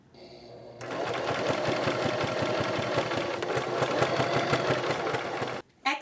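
A serger sewing machine stitches a seam on a garment in one steady, rapid mechanical whir. It starts abruptly, runs close and loud for about five seconds, then cuts off.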